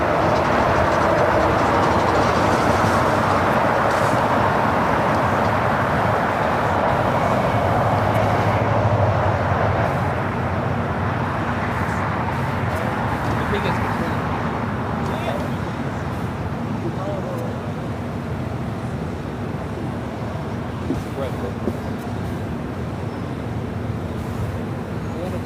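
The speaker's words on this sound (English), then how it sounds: "There we also see Latam Airlines 2479, that 767-300ER about to take off to Lima," A LATAM Airlines Boeing 767-300ER bound for Lima begins its takeoff at LAX, a broad, loud jet roar that swells and rumbles steadily and thins slightly toward the end, with voices talking over it.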